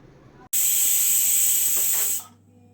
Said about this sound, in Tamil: மூடி வச்சு ஒரு விசில் விட்டால் போதும்.